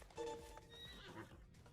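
A horse whinnies with a rising, tonal neigh over a faint game-like background in the video game Aion 2, followed by softer ambient noise.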